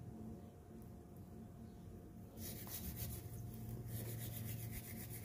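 Clam shells being scrubbed clean of black algae and moss while preparing tinolang halaan, a steady close rasping rub that grows louder and more rhythmic halfway through, with no talking.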